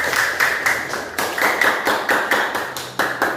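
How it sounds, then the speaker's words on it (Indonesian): A classroom of students claps for a classmate who has just read her exam work aloud, a close burst of many hands clapping in a steady rhythm for about three seconds, with no talking over it. "Beri tepuk tangan untuk Angel yang sudah membacakan hasil ujiannya"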